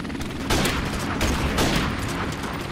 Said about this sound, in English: Stun grenade.